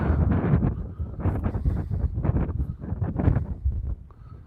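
Strong gusty wind buffeting a microphone at Lake Morena, loud low rumbling bursts that surge and fade in uneven waves, easing slightly toward the end.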